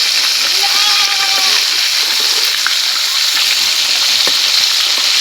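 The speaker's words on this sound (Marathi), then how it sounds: "कडक तेलात टाकण्याच्या आल्यांनी कडक तेलात मासा टाकलाय" Fish coated in salt and turmeric fries in hot oil on a village wood-fired chul stove, a loud continuous crackling sizzle, with a voice speaking over it early on.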